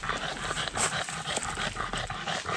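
Dogs pant rapidly and steadily up close in a hot, dry forest, a breathy rhythmic huffing with occasional faint whimpers.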